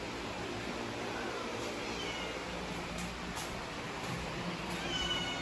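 A cat named Heathcliff meowing indoors in a house under renovation, faint and somewhat distant calls repeating over a steady background hiss, with no one talking.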